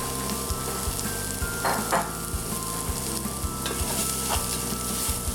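Half a large yellow onion sautés in rendered fat with fond, kept from browning while being stirred: a steady, close, continuous sizzle with repeated scraping strokes throughout, and no voices.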